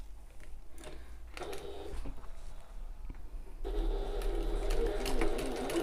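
A sewing machine stitches a shoulder bag in short, stop-start bursts of whirring, the run growing louder and more continuous toward the end.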